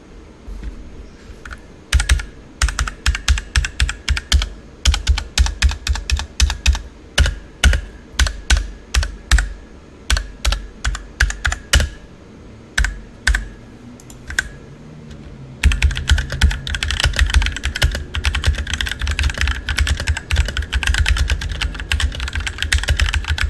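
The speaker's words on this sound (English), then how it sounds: "I'm gonna go ahead and do a little bit of a sound test" Rapid clacky typing on a budget 75% mechanical keyboard, up close and crisp, in bursts of keystrokes with short pauses, then a denser continuous flurry toward the end.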